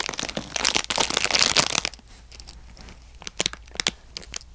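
Close, crisp crinkling and rustling in irregular bursts, busier at first, then sparser crackles after a short lull.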